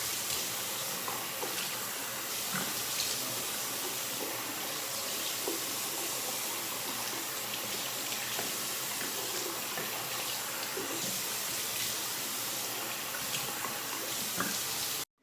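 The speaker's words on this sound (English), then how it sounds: "So I find that washing my face is just fine." Running tap water splashes steadily into a sink during face washing, a continuous close hiss and patter lasting throughout with no speech.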